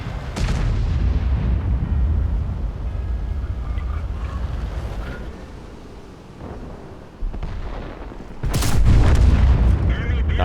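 Tank cannon fire in the World of Tanks video game, heavy booming shots and rumbling explosions with a deep low end, one especially loud blast near the end, while someone talks over the action.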